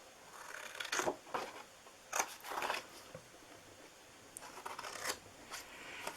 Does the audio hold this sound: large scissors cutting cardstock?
yes